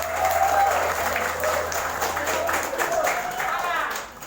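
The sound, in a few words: audience applause for Islamic boarding school students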